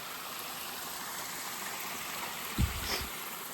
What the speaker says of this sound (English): This is a nice little stream with a waterfall coming down.